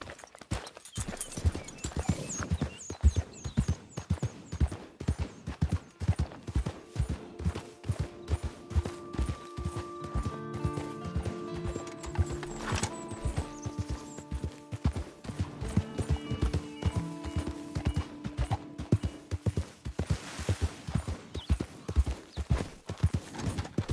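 Horse hooves clip-clop steadily in a Mortal Kombat 11 game scene, a brisk, even rhythm of sharp near hoofbeats running throughout, with a horse's whinny and music-like tones partway through.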